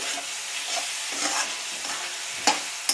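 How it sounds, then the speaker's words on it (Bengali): Chicken being sautéed in a pan for Bengali chicken ghugni, with a steady hiss of frying and occasional scrapes and clinks of a spoon stirring the pieces, close and fairly loud, with no talking. "এই দেখো এটাকে ভালো মতন কষানো হচ্ছে চিকেনটাকে।"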